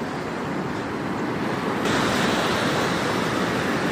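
Broad, roaring wash of strong ocean waves breaking on the shore at Mamburao, Occidental Mindoro, after heavy rain, steady and loud, swelling slightly partway through.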